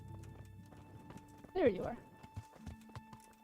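Horse hooves clip-clop on the ground in a medieval role-playing game, in a brief burst of a few steps with a short whinny-like sound, while someone talks over the game audio.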